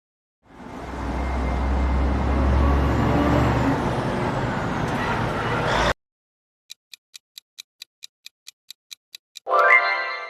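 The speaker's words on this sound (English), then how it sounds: "A truck driving past." A truck drives past close by, a loud broad engine and road roar swelling and fading over about five seconds, then cutting off; steady ticking and a short tonal burst follow.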